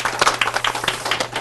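A small audience at a Korean science career mentoring session claps for a guest, a short burst of scattered, fairly close handclaps with an uneven rhythm.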